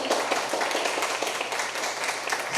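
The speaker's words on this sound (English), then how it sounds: "I think I'll give Jason a round of applause." A church congregation claps during a Sunday service, a brief burst of dense, fairly close applause holding steady to the end.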